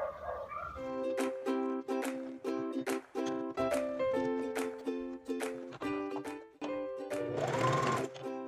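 A sewing machine stitches the seam around the contour of a fabric storage basket, its motor running in rapid, steady bursts separated by brief pauses, close and clear with no talking.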